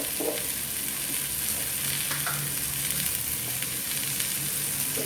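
Chicken keema sizzling and frying in oil in a pan, a steady close hiss running throughout with occasional faint stirring scrapes.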